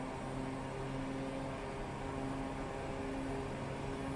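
An airplane in Microsoft Flight Simulator lines up and takes off from Merrill Field in Anchorage, Alaska, its engine giving a steady, even drone with a constant tonal hum and no talk over it.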